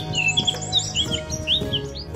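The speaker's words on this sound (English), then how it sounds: "listening to the birds chirping." Birds chirp and tweet in quick, high bursts, several calls overlapping over a low steady background hum.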